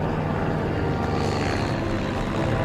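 A search plane flies overhead above a river, its propeller engine giving a steady, fairly loud drone that fills the whole moment with no voices.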